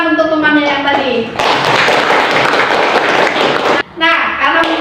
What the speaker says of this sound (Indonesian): Beri tepuk tangan untuk temannya yang tadi.